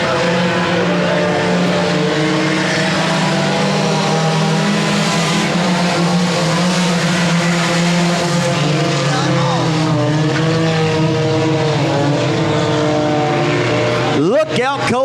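Four-cylinder race cars run a heat at Lonestar Speedway, a loud, steady pack of engines droning together with shifting pitch throughout, a sharp rising whine near the end as one car accelerates close by.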